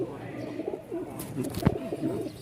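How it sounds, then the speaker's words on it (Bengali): A male Rajshahi Giribaz pigeon coos in short rolling phrases, close and moderately loud, with a few sharper knocks and background chatter at a pigeon sale in Mirpur-1, Dhaka. "এই যে দেখেন নরটা ককাডাক ডাক শুরু করে দিছে দেখছেন"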